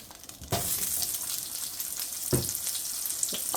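Onions tossed into hot oil for Swiss steak burst into a loud sizzle with a sharp splash, then a steady close frying hiss broken by a couple of scraping stirs.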